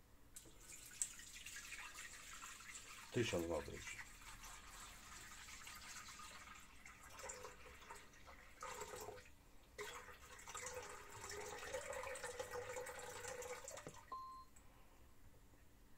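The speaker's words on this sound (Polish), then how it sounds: "do naczynia miksującego wlać wodę 1000 gram" Water poured into the mixing bowl of a Lidlomix kitchen machine, a soft trickling and splashing fill heard up close, with a brief spoken remark and a few clinks.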